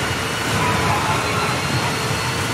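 Heavy pouring rain during a hill climb stage in China in the rally racing game V-Rally 4, a steady dense hiss of downpour with a low rumbling bed underneath, no talking.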